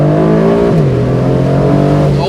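An Aston Martin DB12 Volante engine pulls hard under acceleration, a loud, close, sustained drone whose pitch drops at a gear change and then holds, with a voice speaking over it.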